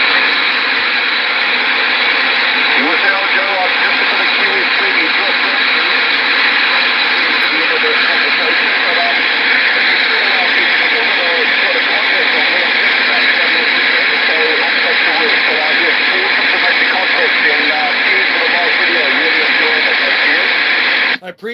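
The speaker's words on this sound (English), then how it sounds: "I do have a little bit of a noise floor in there, but you're coming in." Amateur ham radio reception hisses loudly and continuously with a heavy noise floor. The broadband static stays constant for the whole stretch and cuts off abruptly at the end.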